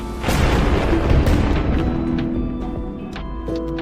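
A lightning strike slams into a house during a heavy storm: one sudden, very loud booming crash that swells, then slowly decays into a long rumbling tail, with scattered faint crackles near the end.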